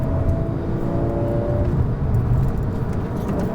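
A car engine revs continuously and loudly from close by during a heel-toe downshift, its pitch shifting as the throttle blips to match revs. No voices are heard over the engine.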